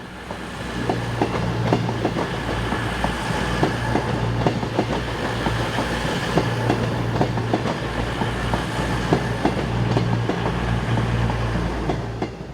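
A British Rail Class 221 diesel train rumbles close by, heading towards a station, with steady rhythmic wheel clatter and a low droning engine, continuous and fairly loud throughout.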